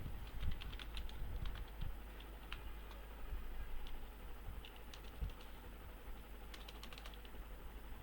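Quiet keystrokes tapping on a computer keyboard, scattered light clicks in short irregular bursts over a steady low background hum, with no one speaking.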